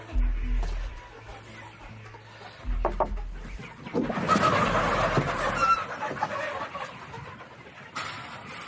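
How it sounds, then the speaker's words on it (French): Free-range yellow Landes chickens cluck and call outdoors in the early morning in short bursts, with low rumbling background noise and a busier stretch of clucking in the middle. "Au petit matin, les poulets jaunes des Landes retrouvent la liberté."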